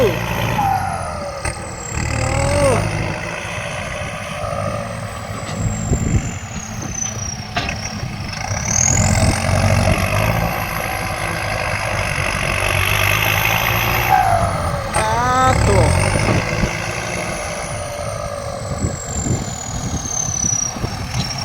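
A heavy tractor engine runs loud and close with a steady rumble and whining tones, while voices talk over it throughout.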